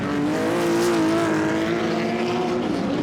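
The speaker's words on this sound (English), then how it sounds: "That's a 64 shaped Ferrari GTO." A 1964-shaped Ferrari GTO racing at Goodwood's 75th Members' Meeting, its engine a steady, sustained tonal roar that holds near and loud for about three seconds with no talk.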